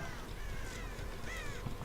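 A crow caws inside the horror survival game Dead by Daylight, a few harsh calls rising over steady game ambience and music, fairly loud and close, with no talking.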